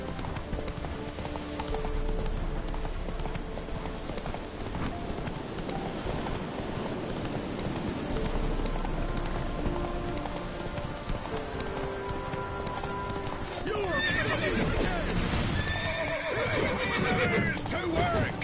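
A horse in the video game Witcher 3 gallops with steady hoofbeats and whinnies amid rain-like ambience, with game sounds and voices in the background.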